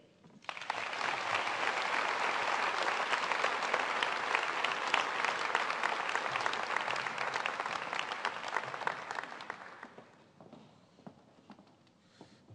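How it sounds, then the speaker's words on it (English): Sustained applause from a seated audience honoring veterans at a community service event, loud and steady for about ten seconds before fading to scattered claps. "give them a round of applause"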